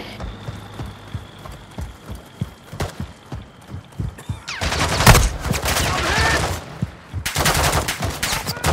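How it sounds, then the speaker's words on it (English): Gunfire in Call of Duty Warzone 2.0: a rapid run of sharp shots gives way to loud, dense bursts of automatic fire and explosions, with short pauses between volleys. "You are taking effective fire."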